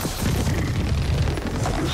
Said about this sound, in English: I hit it with a missile.